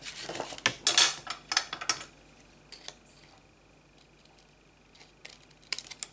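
A blade trimming off excess material in a quiet indoor room, heard as a cluster of sharp close scraping and clicking cuts at the start, then sparse faint ticks and a final few scrapes.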